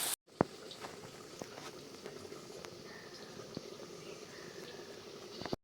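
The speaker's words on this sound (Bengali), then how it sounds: "খয়রা মাছগুলো দিয়ে আমি আবারও ঢাকা দিয়ে ফুটিয়ে নেব।" Khoira fish simmering in a sour keora curry inside a covered pot, a soft steady bubbling with faint irregular pops and light patter, quiet and close.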